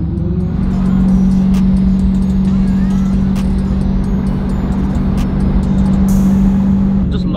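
A 2018 Dodge Challenger T/A 392 drives toward the highway, its engine a steady, loud, low droning hum heard from inside the car with faint clicks and brief voices.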